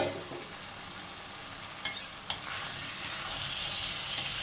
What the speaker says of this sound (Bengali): এবার আমি ভেজে রাখা ডিমগুলো দিয়ে দেবো, একসাথে কষিয়ে নেব।